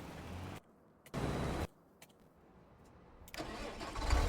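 A tractor engine in Farming Simulator cranks and fires in short separate bursts, each cut off abruptly, then catches and rumbles louder at the end, heard alone at close range.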